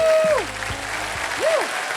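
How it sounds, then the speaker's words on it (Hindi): Studio audience applause on a Hindi-language Wheel of Fortune game show, a steady wash of clapping that carries beneath a host's voice at the start, then continues on its own. "जोरदार तालियां मेरे लिए।"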